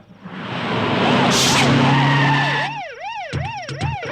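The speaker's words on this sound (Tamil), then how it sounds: "டிரைவர் வண்டி எடுப்பா." A police car pulls away with tyres skidding loudly and the engine surging, and its wailing siren then rises and falls in repeated close sweeps.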